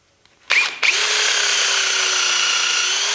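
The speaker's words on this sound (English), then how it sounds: "we'll just go ahead and drill that hole" A power drill spins up after a brief pause, then runs at a steady high whine as it bores into a wooden bowl blank, loud and close.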